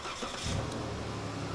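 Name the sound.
2011 Dodge Grand Caravan engine starting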